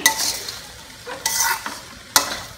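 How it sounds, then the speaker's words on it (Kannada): Broad beans tossed with salt in a pan make a few scraping stirring strokes over a soft background sizzle, close by, with three distinct spatula sweeps and no voices. "ಉಪ್ಪು ಹಾಕಿ ಅದನ್ನು ಚೆನ್ನಾಗಿ ಒಂದು ಸಲ ಹೀಗೆ ಕೈಯಾಡ್ಕೊಳ್ಳೋಣ"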